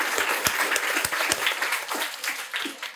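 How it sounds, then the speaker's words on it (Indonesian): Audience applause at a talk event, a few seconds of scattered clapping with some louder individual claps, moderately close and unaccompanied by speech. "saya minta Anda tepuk tangan untuk diri Anda semua yang masih bertahan di sini"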